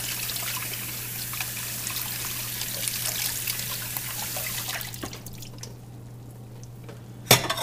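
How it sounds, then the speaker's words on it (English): Water runs steadily from a tap over a mahi-mahi fillet as it is rinsed, a soft continuous trickle with a low hum beneath, stopping after about five seconds before a brief clatter at the end. "Then you take your fish and you rinse it off."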